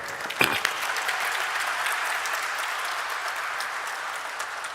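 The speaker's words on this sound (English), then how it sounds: "Round of applause for them" Audience applause at the listing ceremony of KFin Technologies Limited, welcoming new investors: a steady, dense wash of clapping that holds evenly throughout, with a sharper burst near the start.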